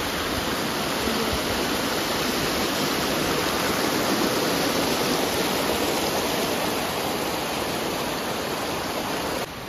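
Loud, steady roar of a mountain waterfall near Manali, a dense unbroken rush of falling water filling the whole clip from close range with no voices.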